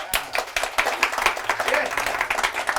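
Live audience at a comedy stage show breaks into lively clapping on cue, a dense patter of many hands that stays fairly loud and steady throughout, with a brief burst of voices mixed in.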